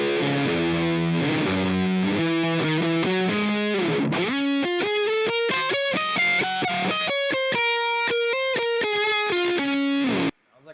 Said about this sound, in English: Now let's add on the first fuzz pedal.